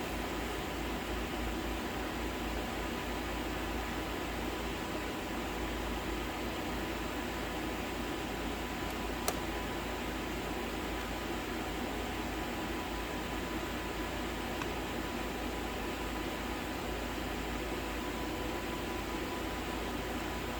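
A hair dryer blows warm air in a steady, even rush that holds constant for the whole stretch, loud and close with no pauses or changes.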